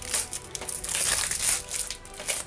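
Plastic foil wrap on an Uncharted 4 collector's edition box being slit and pried open with a small knife, close crinkling and crackling bursts in an irregular rhythm, with no voices.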